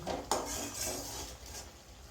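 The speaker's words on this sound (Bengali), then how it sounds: "মাংসটা আমি দিব, একটু মশলাটা কষাই নিই।" Spices sautéing in a pot for khichuri, a soft sizzle with one sharp clink of a spoon against the pot near the start and faint scraping after it, quiet and close.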